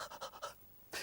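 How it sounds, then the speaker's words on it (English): A dog pants in quick, breathy rhythmic puffs, four close together, a brief pause, then another, heard up close and alone after running beside a bicycle. "his tongue was hanging out and he was panting"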